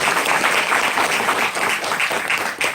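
An audience at a health awareness program in Mehalchori applauds, dense steady clapping that fills the room at even strength, then eases slightly near the end.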